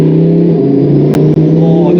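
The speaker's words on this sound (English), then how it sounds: "those turbos sound absolutely ridiculous" Twin-turbo Lamborghini Huracan pulling hard on the Autobahn, a steady loud engine drone rising in pitch with turbo whine, close inside the cabin, briefly cut by a couple of sharp clicks.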